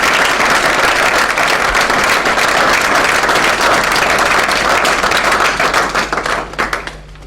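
A church congregation bursts into loud, sustained applause for the Lord, a dense wall of clapping from many hands that carries on steadily before thinning and tapering off near the end.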